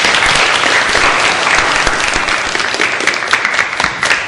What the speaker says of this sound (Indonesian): Bagus sekali, tepuk tangan untuk Susi